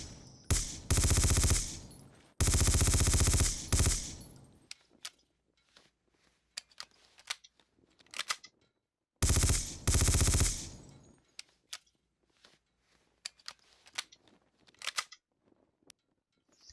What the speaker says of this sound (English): This is the P90.